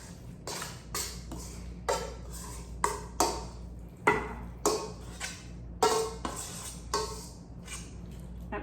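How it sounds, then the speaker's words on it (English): Chicken casserole mixture scooped with a metal utensil into a casserole dish, a series of clinks and wet scrapes in irregular rhythm, close and clear without talk. "I'm gonna put it in a casserole dish"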